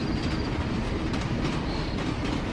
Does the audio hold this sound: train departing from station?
yes